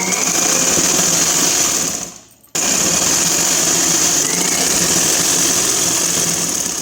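A sewing machine stitches the lining of an umbrella-style long frock with a loud, fast, steady whir and rattle, pausing briefly and then running continuously again, with no voices.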